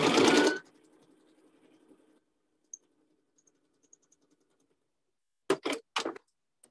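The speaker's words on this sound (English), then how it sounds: "So then you would start sewing here and just go back up." A sewing machine stitching a seam on a fabric book pillow: a loud burst of rapid whirring at the start, then faint mechanical ticks and a few short stitching bursts near the end.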